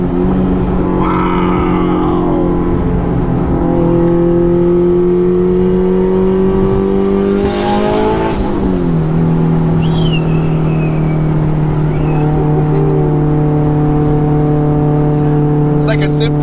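A modified 1,000-horsepower Mitsubishi Evo X runs with its exhaust opened, giving a loud, close, steady engine drone that climbs in pitch once and then settles back. People talk over it.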